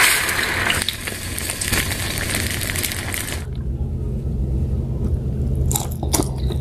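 Close-up chewing and biting while eating scrambled eggs at a Filipino meal served with tuyo, vegetable stew, fried milkfish and rice; soft moist mastication sounds continue steadily, with a few sharper crunchy bites near the end.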